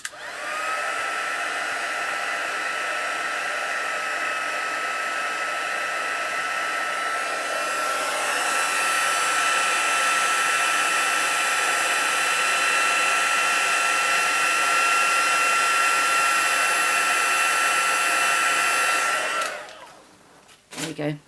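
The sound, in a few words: heat tool running for embossing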